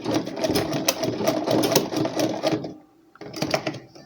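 A sewing machine stitching closed a shirt buttonhole, loud rapid mechanical chattering in a continuous run, a short pause, then another burst of stitching.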